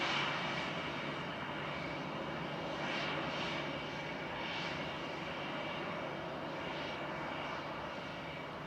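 A Turkish Airlines plane taxis out at Manchester Airport, its engines giving a steady, moderately distant whine and rumble that swells slightly at moments, with no voices over it.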